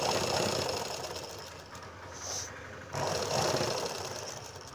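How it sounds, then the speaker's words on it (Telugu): A sewing machine stitches a blouse in a continuous fast, whirring clatter that pauses briefly midway and then resumes, close and steady with no talk. "ఒకవైపు కుట్టి చూపిస్తున్నాను అన్నమాట మీకు."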